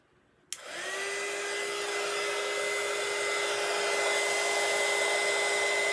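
A hair dryer switches on with a sharp click and then runs as a steady, loud whoosh with a faint whine, blowing on wet ink on a t-shirt.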